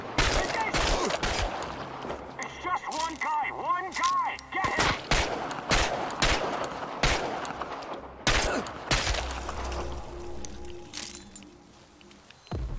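Gunfire rings out during combat in the video game Chernobylite, with repeated loud shots and bursts spread across the clip, some metallic clinking between them and voices briefly heard alongside.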